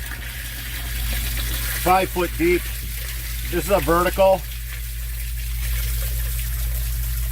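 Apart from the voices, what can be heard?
water running into an outdoor yard sump basin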